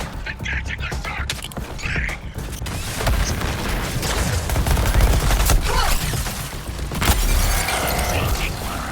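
A sustained gunfire barrage rattles through a Suicide Squad video game fight, dense overlapping shots and booms that build and stay loud for several seconds, with voices under the din.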